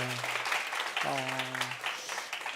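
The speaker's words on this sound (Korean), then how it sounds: "우리 고3 선배들 힘내라고 응원의 박수로 한번 치도록 하겠습니다" Church congregation applauding to cheer on high school seniors during a Sunday worship service, with a voice speaking over the clapping and broad clapping noise throughout.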